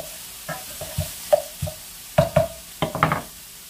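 Browned, drained ground meat is stirred around in a frying pan at home, with a spoon scraping and clattering against the pan in irregular bursts and a soft sizzle underneath.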